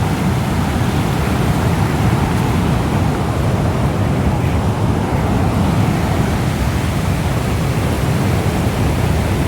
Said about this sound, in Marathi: तिथे आवाज एवढ्या जोरात येत आहे पाण्याचा, तुम्ही पाण्याचा प्रवाह पाहू शकता किती जोरात चालला